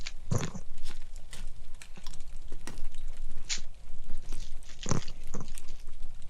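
Crunching bites into a holiday snack during a taste test, several sharp, loud crunches at irregular intervals with softer chewing between them, close up, no talking.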